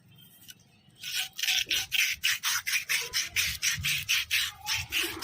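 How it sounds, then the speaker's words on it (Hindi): Rusted lever on a Mahindra tractor being rubbed and scraped to strip the rust, a loud rasping back-and-forth stroke repeated steadily about a dozen times, close and alone with no talking. "इस हिसाब से कंप्लीट को अच्छी तरह से घिसना है दोस्तों"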